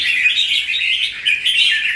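Red-whiskered bulbul giving harsh, aggressive calls, a loud, continuous run of rasping chirps close to the microphone with no other sounds.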